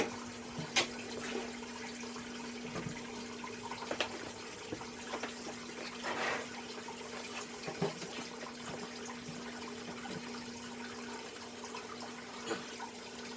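Saltwater being transferred into a reef display tank in a home fish room, a steady low hum running throughout with scattered drips, splashes and small clicks over it, moderately quiet and with no voices.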